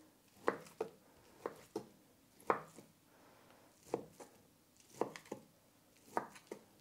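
A knife dices ingredients into small cubes for a pizza-style pie filling, giving quiet, crisp chopping taps in uneven pairs and small clusters, close and alone with no talking.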